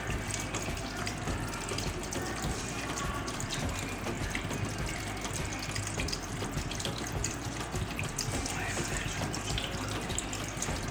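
Half a litre of water pours into a pot of fresh mutton paya, a steady, even rushing gush lasting throughout with no talk over it.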